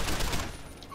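A short, loud burst of rapid gunfire erupts in Deus Ex: Human Revolution during a firefight, then fades over about a second.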